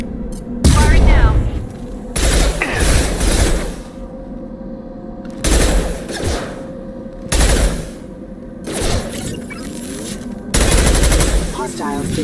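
Mass Effect 2 video game gunfire comes in loud, close bursts of rapid automatic fire, about six volleys each lasting a second or two, separated by short gaps.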